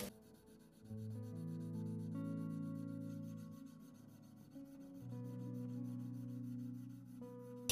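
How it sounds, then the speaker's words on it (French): Steel knife blades are hand-polished with abrasive paper up to 320 and 500 grit, giving a steady, continuous rubbing hiss that runs unbroken and fairly quiet throughout. "je vais devoir me remettre à polir"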